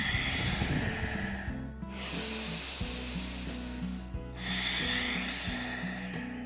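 During a yoga kriya, forceful breaths puff out through the nose in a steady rhythm, with breathy hissing close to the mic over soft background music.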